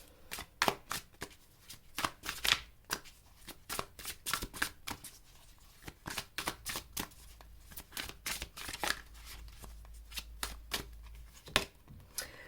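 Tarot cards being shuffled by hand, rapid close crisp riffling and slapping in quick irregular bursts, quiet and alone with no talking.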